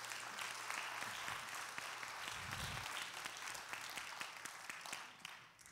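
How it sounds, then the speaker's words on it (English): Congregation applause at a church fellowship service, a steady wash of many hands clapping that holds for several seconds at moderate distance, with no voices on top. "let's give him a round of applause."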